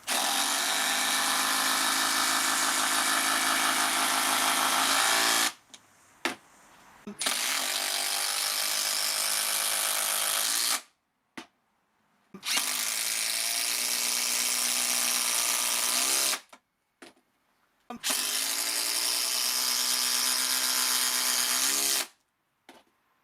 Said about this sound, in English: I wonder how different it's going to sound over a standard impact driver.